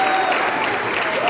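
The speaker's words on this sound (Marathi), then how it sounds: "जोरदार टाळ्या झाल्या पाहिजे यासाठी." Loud, steady applause from a crowd at a Ganesh Chaturthi celebration, a dense even wash of clapping close by with no pauses.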